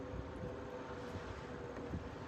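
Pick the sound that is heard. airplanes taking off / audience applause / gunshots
airplanes taking off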